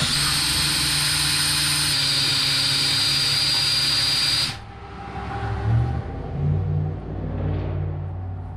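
Drill-powered diesel transfer pump under a run test, a loud steady high-pitched whine and hiss for about four and a half seconds, then it cuts off, leaving lower rumbling and faint mechanical noise.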